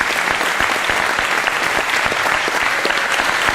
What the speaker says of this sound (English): I'm hearing some loud applause from Garden Club members out there too